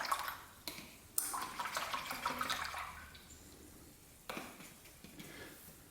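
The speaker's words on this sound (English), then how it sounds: "Now that I have a bit of water, clean the brush out." An acrylic paintbrush swishes and rinses in a small container of water, producing faint sloshing and trickling with a couple of soft knocks against the container, quiet and close.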